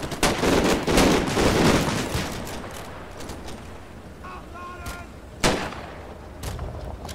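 Gunfire in the Normandy wargame Combat Mission Battle for Normandy, a dense burst of shots and explosions at the start that thins into scattered, fainter reports and a later sharp crack.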